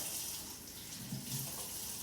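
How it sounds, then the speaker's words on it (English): Warm water runs steadily from a tap during handwashing in a home cooking class, a soft, even hiss with a little splashing near the sink, faint and continuous with no talking. "So I use the warm water."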